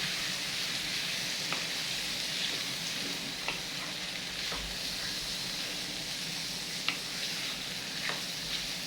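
Cubes of kebab meat sizzle in a pot with a steady hiss, broken by a few soft clinks and scrapes as they are turned over, close up with no talking.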